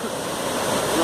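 Rushing water pours steadily at a sewer-side waterfall, a dense continuous roar that stays loud and close throughout the short stretch with no pauses.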